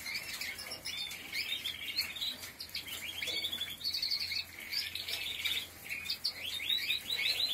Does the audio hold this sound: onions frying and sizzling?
no